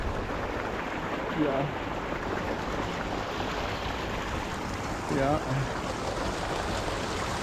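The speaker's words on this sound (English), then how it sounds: "And you hear the water rushing beneath us." Rushing water runs beneath a trail at Bagna Marsh on the Bruce Trail, a steady broadband wash that stays constant throughout, with a person's brief remarks heard over it twice.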